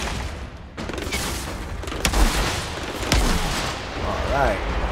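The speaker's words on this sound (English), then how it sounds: "Those enemies sound like they're shooting at me with a damn BB gun." Enemy gunfire in the video game Outriders, with scattered sharp shots and bursts over a busy game soundtrack and noise. Two louder cracks stand out near the middle.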